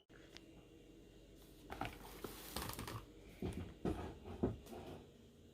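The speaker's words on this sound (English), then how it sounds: "Alright, got the yakisoba, it's all stirred up." Spicy yakisoba noodles coated in sauce are stirred in a pan in a home kitchen, giving faint, soft squishing and scraping bursts that come and go unevenly.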